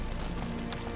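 A horse gallops in The Witcher 3 video game, its hooves making a steady, fast clip-clop rhythm that stays close and fairly loud throughout, with no talking over it.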